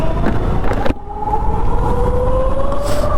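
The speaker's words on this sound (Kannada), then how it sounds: "ನನ್ನ ಲೈಫಲ್ಲೇ ನಾನು ಫಸ್ಟ್ ಟೈಮ್ ಓಡಿಸ್ತಾ ಇರೋದು ಎಲೆಕ್ಟ್ರಿಕ್ ಗಾಡಿನ" An electric motorcycle on a test ride gives off a thin, steady motor whine that rises gradually in pitch over rushing road and wind noise, with a brief dip near the start.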